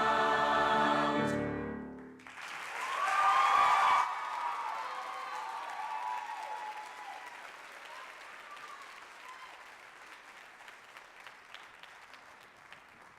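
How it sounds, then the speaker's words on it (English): At a high school spring vocal concert, a choir's final sung note is cut off and a crowd breaks into loud applause with some cheering, which gradually thins into scattered clapping over several seconds. "if we could round of applause for Alex"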